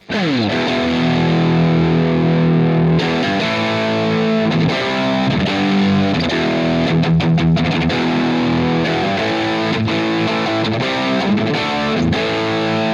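Distorted electric guitar plays loud, crunchy chords and riffs through a plexi amp simulation plugin, a warm, overdriven tone, sustained throughout with no talking.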